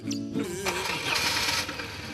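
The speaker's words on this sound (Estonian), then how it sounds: "Tsikli saime käima ka ja isegi mõned kilomeetrid sõita." A motorcycle engine cranks and catches on a long-distance ride toward Lake Baikal, a short starter whine followed by a rough mid-pitched idle building under background noise.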